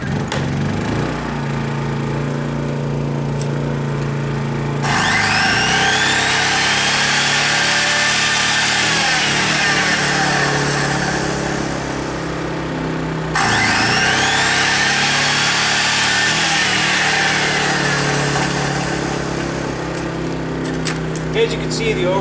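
A circular skill saw draws power from two paralleled Honda EU2000i generators, whining up loudly to full speed twice in long sustained bursts over the generators' steady drone, with a person talking in between.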